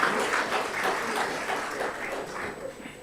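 A conference audience at an agriculture science meeting claps together in a sustained round of applause, dense and even throughout, fading slightly toward the end.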